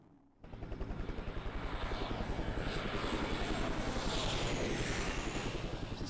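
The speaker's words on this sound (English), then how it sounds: "Is this guy hanging onto a helicopter like some crazy..." Helicopter in the Resident Evil Survivor PlayStation game, rising in abruptly after a brief quiet, then a loud steady rotor beat with a rhythmic chop that holds near and constant.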